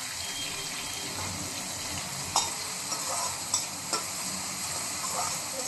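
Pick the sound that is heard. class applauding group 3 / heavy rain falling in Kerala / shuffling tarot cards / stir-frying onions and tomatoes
stir-frying onions and tomatoes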